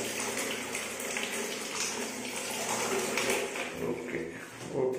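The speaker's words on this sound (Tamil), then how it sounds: "தண்ணி சூடாக வருது, ஹீட் ஆகிடுங்க." Hot water running from the tap of a Crompton Solarium electric water heater, a steady hissing splash of flowing water that continues throughout, with a brief louder splash near the end.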